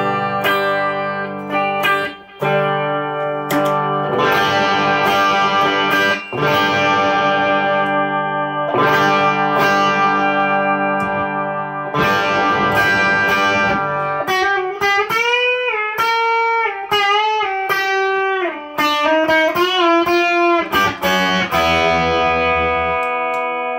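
Electric guitar through a Prince of Tone overdrive pedal, sustained driven chords then bent, wavering lead notes, loud and close with a touch of ambience and no talking.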